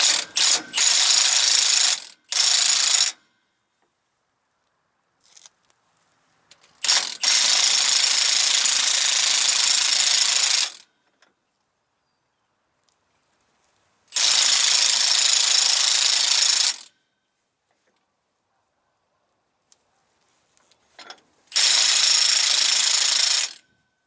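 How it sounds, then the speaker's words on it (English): An impact wrench hammers in several loud, rattling bursts of a few seconds each, separated by silence, very close, during S-cam brake work on a three-axle semi trailer. "I'm going to use an impact just for the sake of time."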